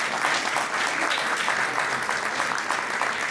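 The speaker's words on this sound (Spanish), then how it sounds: "un aplauso para Ercilia" An audience at a lecture on historical daguerreotypes applauds for Ercilia, a dense, steady burst of clapping from many hands that lasts the whole stretch without pause.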